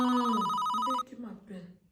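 A telephone rings with a loud, steady electronic trill that cuts off after about a second, followed by fainter tonal remnants and a voice speaking.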